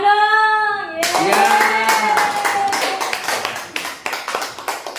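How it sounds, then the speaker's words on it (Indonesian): Hand clapping from an audience at a school teacher-training dissemination session, starting after a sustained tone and growing into sharp, uneven claps that get more separate and distinct toward the end. "Iya, tepuk tangan dong"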